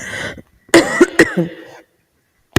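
A couple of sharp, harsh coughs close up, separated by short pauses, with a throaty rasp between them.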